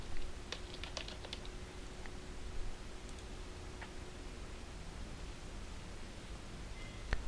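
Bursts of typing on a computer keyboard, irregular clusters of quick clicks early on, then sparse taps over a low steady background hum.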